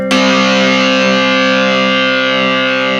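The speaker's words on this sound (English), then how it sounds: "So that is the distortion pedal." A sustained, heavily distorted electric guitar chord through a Twinote British Dist pedal rings out loud and saturated, holding steady for a few seconds with thick gritty overdrive.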